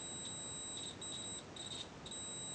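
A Keysight U1232A multimeter gives short, thin continuity beeps in an irregular run of four or five, faint over a quiet background hiss, with no talking.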